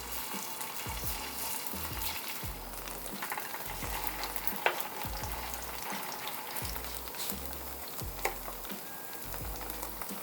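Tofu pancakes (jeon) frying in cooking oil in a pan over medium gas heat, a steady close sizzle with occasional soft taps and clicks, no voices.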